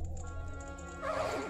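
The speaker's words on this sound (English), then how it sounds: "What's with that stupid horse of yours?" A horse neighs in The Legend of Zelda: Majora's Mask, a short whinny rising out of game background music near the end, close and fairly loud.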